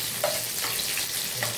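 Chopped onions sautéing until browned for sinigang na hipon, Filipino shrimp soup, giving a steady soft sizzle with a few light stirring scrapes, close and alone with no talking.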